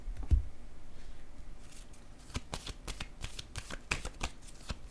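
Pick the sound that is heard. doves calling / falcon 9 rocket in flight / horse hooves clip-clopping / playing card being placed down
playing card being placed down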